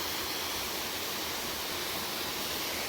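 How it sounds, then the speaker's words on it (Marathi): Water pouring steadily into a rocky river gorge, a dense, loud, continuous roar of falling water with no pauses and no voices. "हे जे पाणी इथं पडतंय तिथलं पाणी कधी आटत नाही"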